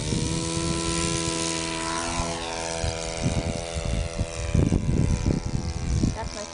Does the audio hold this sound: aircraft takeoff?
yes